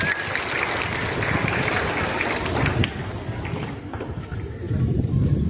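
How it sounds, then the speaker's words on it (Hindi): A school assembly crowd claps loudly for a student news reader, a thick wash of many hands with wind-like rumble underneath, easing slightly midway before swelling again. "हमारे नीतीश सर के लिए जोरदार तालियां।"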